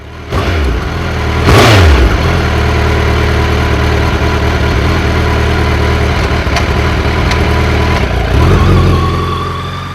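A motorcycle exhaust burbles at idle, punctuated by a sharp throttle blip early on and another rise near the end, loud and close.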